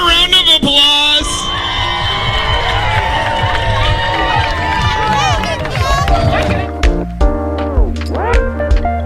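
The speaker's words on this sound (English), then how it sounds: "Can we give them a round of applause?" A crowd at a Harvest Festival in Emeryville, California cheers and whoops loudly, with amplified talk and music overlapping the noise.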